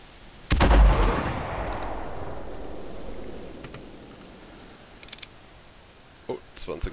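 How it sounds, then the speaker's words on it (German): A single loud rifle shot cracks out during an evening hunt for wild boar, echoing, followed by a long rumbling decay, then a few faint distant pops. "Können wir vielleicht gleich nochmal einen Schuss anbringen"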